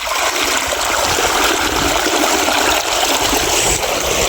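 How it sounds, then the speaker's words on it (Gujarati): Steady rushing irrigation water pours through an opened valve in a mustard field, a dense continuous flow heard close and loud with no voices. "મિત્રો આપણે પાણી ચાલુ થઈ ગયું છે."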